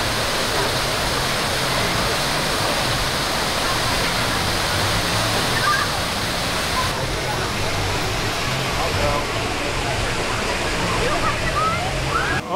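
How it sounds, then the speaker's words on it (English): Water rushes and splashes at a water ride at Knott's Berry Farm amusement park, a loud continuous roar of churning spray that fills the whole stretch, with people talking over it at times. "You just saw the big old thing of water come splashing over there."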